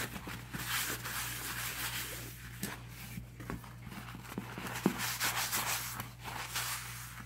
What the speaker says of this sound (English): I take my paper towel and I rub until it's dry.